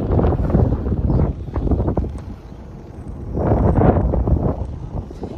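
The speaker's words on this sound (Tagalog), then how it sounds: "It's very windy today." Strong desert wind buffeting the microphone in loud, irregular gusts, rushing and rumbling close up, with a lull between two heavy blasts.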